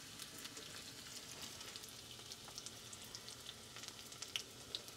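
Pearl onions fry in oil for a mango and coconut fish curry, a soft, steady sizzle with scattered light crackles and pops, quiet and close, with no talking.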